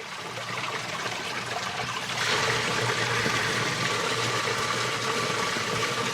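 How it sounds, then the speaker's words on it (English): Artesian well water pours steadily into jugs outdoors, a continuous trickling splash that grows louder and fuller partway through, with no talking over it. "So we're gonna fill all of our jugs up with some nice artesian water here."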